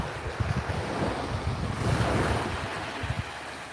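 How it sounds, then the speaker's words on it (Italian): Sea waves breaking on a wide Sicilian beach with clear water, a steady close wash of surf with rolling low swells and constant wind buffeting the microphone, no voices. "Guardate che bello il mare oggi, davvero uno spettacolo."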